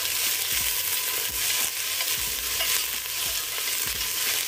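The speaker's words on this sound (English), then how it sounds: "So stir it around in the oil." Chopped onion is stirred around in hot oil in a pan, a steady close sizzle with repeated scraping strokes of the spoon recurring every second or so throughout, no voices.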